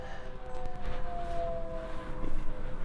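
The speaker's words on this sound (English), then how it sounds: "You might be able to hear the sirens going off behind me." A distant tornado warning siren wails steadily and faintly over a low rumbling background, with no talking.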